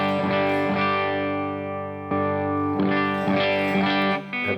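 Electric guitar through a Headrush amp model of an Orange AD30 with a light compressor, played as sustained, ringing chords with a driven, slightly distorted tone, loud and full, with no voice over it.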